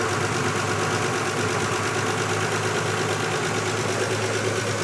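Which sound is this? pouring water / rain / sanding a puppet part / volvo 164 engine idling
volvo 164 engine idling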